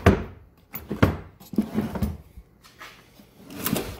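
A drawer in a homemade workbench that conceals a lathe slides open and shut with wooden knocks and thumps, several close handling bumps spaced across the moment with no talk.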